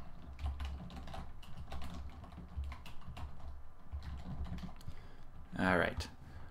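Computer keyboard typing as code is entered, irregular bursts of light plastic key clicks throughout with a short louder clatter near the end, close and fairly quiet.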